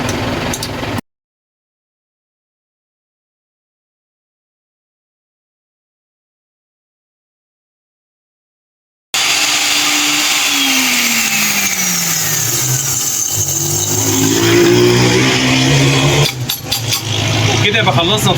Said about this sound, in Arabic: وتعالوا بقى نطحن مع بعض ونشوف النتيجة في الاخر هتكون عاملة ازاي